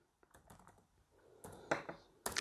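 Computer keyboard keys tapped while programming, in short irregular bursts of clicks with pauses between, fairly quiet and close, without talk.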